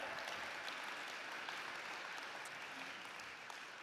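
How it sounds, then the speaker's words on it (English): Steady round of applause from a festival program launch audience, continuous and dense throughout at moderate distance, with no speech over it. "Yeah, let's give him a round of applause."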